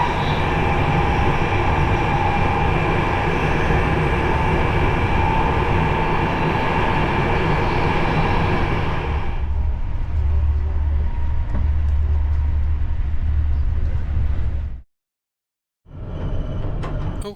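Interior of a PKP Intercity EuroCity train running on the Berlin–Frankfurt Oder mainline toward the Polish border, a loud continuous rumble and rolling roar that eases partway through, then drops out abruptly for a moment before resuming.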